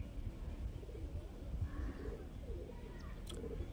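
A male Madrasi pigeon gives soft, low cooing, faint and partly masked by background noise and a murmuring voice.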